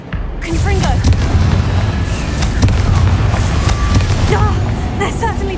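A Confringo fire-spell blast in Hogwarts Legacy: a loud booming explosion with crackling debris and sharp cracks scattered across several seconds of busy combat noise.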